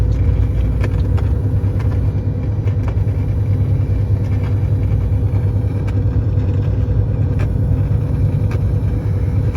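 A truck hauling a load climbs a hill in seventh gear at roughly 20 to 30 km/h, its engine giving a loud, steady droning rumble from inside the cab throughout, with no talking.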